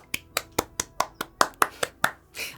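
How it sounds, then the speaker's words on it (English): Close, crisp handclaps ring out one at a time in a steady rhythm, about eleven sharp claps in quick succession with no talk. "Applause."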